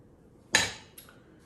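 Mixing butter into biscuit dough in a bowl gives a single sharp utensil clink against the bowl, followed by a fainter tap a moment later in an otherwise quiet kitchen.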